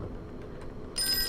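A telephone in the video game Call of Cthulhu starts ringing near the end, a bright electronic trill cutting in suddenly after a quiet stretch of low background ambience.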